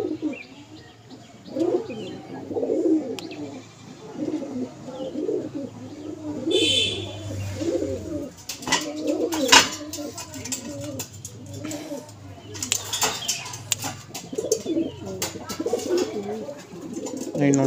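A pair of pigeons, a male and a female, cooing in repeated soft throaty rolls close by, with occasional chirps and wing sounds and someone talking in between.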